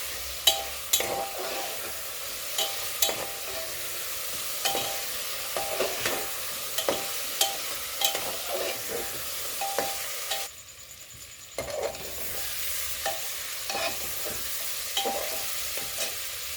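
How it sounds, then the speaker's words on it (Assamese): Masala and chicken fry in a pressure cooker for biryani, giving a steady sizzle under repeated scraping stir strokes and a short quieter pause near the end. "मैं मसलाखिनि भालके फ्राई करि लम चिकेनखिनिर सहित"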